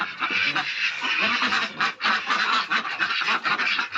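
A flock of pet ducks, five drakes and seventeen hens, quacking continuously and loudly in a dense overlapping chorus close by, with no talk.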